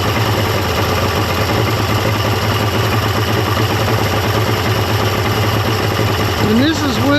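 A Mercury 200HP XR6 Blackmax outboard engine idles with its idle stabilizer disconnected, giving a steady, close, continuous low rumble throughout.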